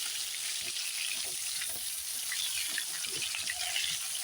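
Pieces of katla fish fry in a pan of hot oil, a steady, even sizzle hissing on without pause, broken only by faint occasional taps and clinks, and no talking.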